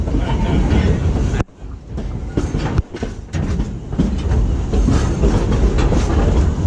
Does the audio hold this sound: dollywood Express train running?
yes